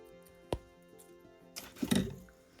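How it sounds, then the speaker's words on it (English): Scissors snip a strand of yarn on a crocheted elephant: a sharp single click early on, then a short rustling cut with a couple of soft closing snaps, close and quiet. "grab a pair of scissors and snip this yarn off"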